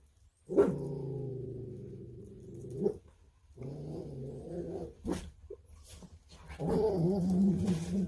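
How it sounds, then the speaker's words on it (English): A neighbor's dog makes drawn-out, growling vocal sounds in two long stretches with a short burst between them, fairly close and moderately loud, and no talking over it. "I hope our neighbor's dog is not here"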